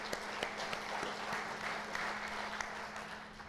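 Audience applause at a Seder gathering thanking cooks and volunteers, steady clapping from a moderate crowd, fairly soft and distant, with a faint hum underneath.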